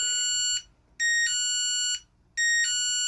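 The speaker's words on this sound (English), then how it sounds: "And the storm is setting off my driveway alarm." A driveway alarm is set off by a storm and sounds a loud electronic chime in repeated bursts, three tones separated by short pauses, with no voices.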